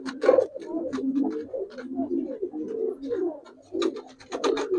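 Giribaz Bagha pigeons coo in low throaty rolling calls, several overlapping birds close by, with soft rustling and faint background sounds.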